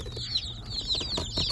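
Newly arrived Welsummer chicks on a farm peep in a dense chorus of high chirps, overlapping and continuous, close by and fairly loud.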